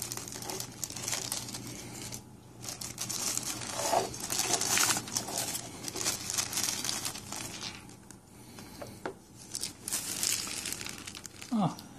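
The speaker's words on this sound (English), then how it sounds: "Let's go ahead and get this plastic off of her." Plastic wrapping is pulled and peeled off a figure during an unboxing, with repeated close crinkling and tearing bursts over the whole stretch while a person talks intermittently.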